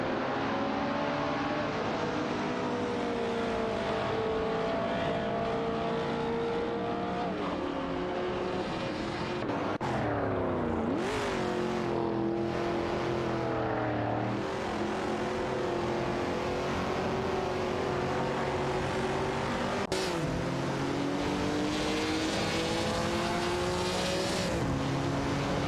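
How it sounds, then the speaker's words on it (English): Video-game race cars, an Alpine and a Toyota Celica among them, roar loudly and continuously, engines revving and shifting pitch as they accelerate and pass, with occasional tire squeal throughout. "It's a tight tussle for power between Jasak 72 in an Alpine A100 810 1800s and UMRF Society in a Toyota Celica"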